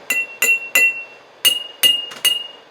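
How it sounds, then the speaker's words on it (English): Six bright glassy taps on a water-filled jar, each ringing briefly with a clear tone, in an uneven rhythm with a short pause midway. "Does tapping anywhere else on the jar make a different sound?"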